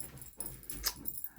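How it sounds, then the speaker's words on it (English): A dog whimpers faintly at a distance in a quiet room, a few soft high whines over low background noise while fireworks go off nearby. "Puppy, go lay down, Slayer."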